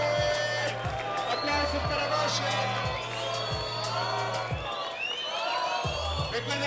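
Crowd at a freestyle rap battle cheering and whooping for the rapper, a loud continuous roar over a thumping beat and mixed with shouting voices.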